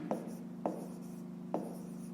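Pen or pencil writing numbers by hand on paper during a fifth-grade math exercise, three quick close scratchy strokes with quiet pauses between.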